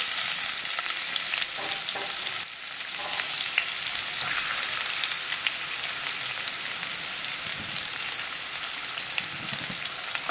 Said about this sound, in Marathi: कांदा छान गुलाबी रंगावर परतून घेऊया व्यवस्थित, खरपूस थोडासा।